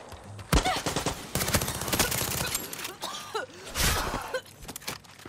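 Gunfire with poison rounds in the video game Far Cry 6, a series of sharp bursts and rapid shots across the clip, loud and close, mixed with game effects and some talk.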